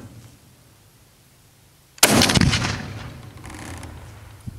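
A CZ-550 bolt-action rifle chambered in .308 fires a single loud, sharp shot outdoors after a quiet lead-in, with a rolling echo trailing off for a couple of seconds.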